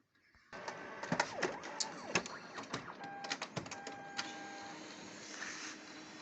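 A Samsung CLX-6260 laser printer, just back from a solenoid repair, starts up under test with a run of mechanical clicks, whirs and clunks that come in irregular bursts, with a few steady beeping tones near the end.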